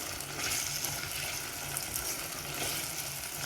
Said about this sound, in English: I want to make sure that my vegetables, especially my tomatoes, are sauteed properly